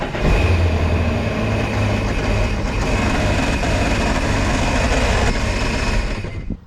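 A Sea-Doo Switch engine runs steadily for several seconds midway through an oil change, a loud, even drone with a low rumble, then cuts off at the end.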